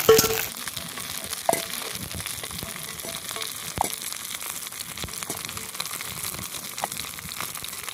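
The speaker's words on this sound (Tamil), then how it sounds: "பாருங்க, கத்திரிக்காய் இந்த அளவுக்கு நல்லா வதங்கிடுச்சு." Brinjal frying in oil in a pan gives a steady broadband sizzle, with occasional soft stirring clicks and no talking.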